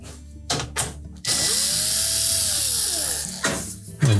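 A power drill backs quarter-inch hex head screws out of the rear access panel of a GE range, with a sustained whirring run of about two seconds between short bursts and clicks, close and loud.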